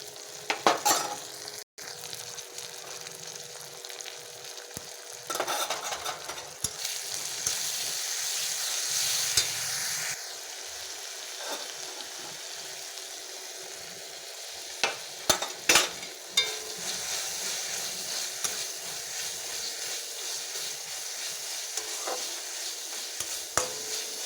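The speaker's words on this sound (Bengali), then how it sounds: "এবার টমেটোটা দিয়ে দেবে এবারে দিয়ে দেবো বাটা মশলাটা" Tomato and ground spice paste fry in a pan with a steady, close sizzle and hiss, broken by occasional stirring scrapes and clicks of a spoon.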